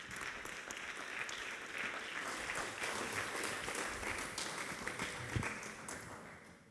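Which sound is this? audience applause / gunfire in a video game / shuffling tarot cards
audience applause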